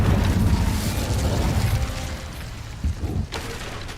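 An Incendio fire spell is cast in a Hogwarts video game, giving a dense, roaring whoosh that fills the first two seconds and then thins out. A few short mechanical clicks and pops follow.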